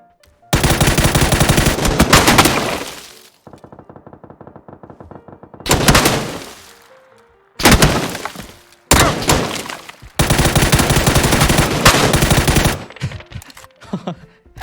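Loud machine-gun fire in PUBG comes in several long sustained bursts, separated by short gaps and one quieter buzzing stretch, with sharp impacts and breaking-glass sounds mixed in.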